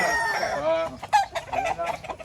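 Gamefarm roosters and hens clucking and calling nearby, a run of loud, clear clucks with a brief crow-like call, fairly close and uneven in rhythm.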